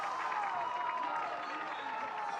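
A large esports arena crowd at a Valorant match reacts with a sustained roar and cheering, a broad steady wash of noise with a caster's voice running over it.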